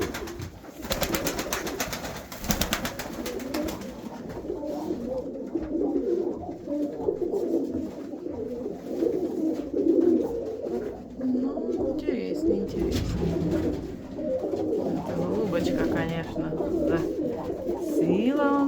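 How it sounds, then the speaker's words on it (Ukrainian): Pigeons cooing steadily and fairly close, soft repeated throaty calls continuing throughout, with a person talking intermittently over them. "Це голуб"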